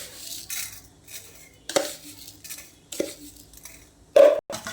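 Egg being mixed with salt and sugar in a bowl by hand, heard as intermittent clinks and scrapes of a utensil against the dish, with several sharper knocks and one bright ring near the end, with no talking.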